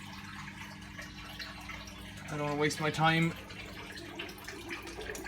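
A Bosch Classixx 6 Varioperfect washing machine with a motor fault pumps out water during drain, producing a steady low running hum and trickling flow that stays constant while someone speaks briefly over it.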